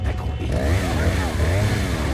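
Rough, buzzing chainsaw engine revving in the video game Resident Evil 4, loud and wavering in pitch. It is mixed with game noise and a voice.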